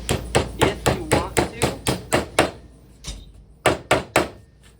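A hammer strikes a circular spine piece into a book-style codex assembly in a quick, even series of close, sharp taps, pausing briefly before a few final blows.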